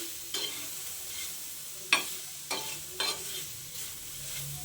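Tomatoes fry in a pan for thecha under a low, steady sizzle, with a few distinct spatula scrapes and knocks spaced about a second apart.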